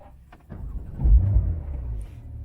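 A Porsche 911 Carrera 4S of the 992 generation starts up: after a quiet moment a click and crank lead into a deep, loud engine swell that peaks, then settles into a lower, steady idle rumble.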